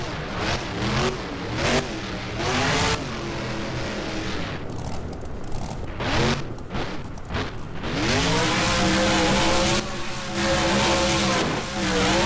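A monster truck revs and roars in the BeamNG video game at a freestyle arena show, its engine climbing and dropping in pitch, with a brief quieter moment before it slams against an arena mound and roars again.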